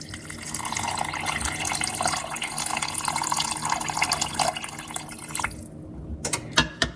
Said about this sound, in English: And to that, I'm going to add water.